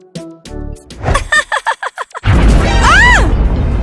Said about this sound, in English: What was that? It was like an explosion.